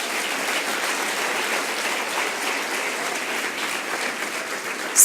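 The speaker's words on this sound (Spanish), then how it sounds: "denle un fuerte aplauso al Señor" A large church congregation applauds continuously and evenly during a Sunday service, a dense wash of clapping that keeps going without letup.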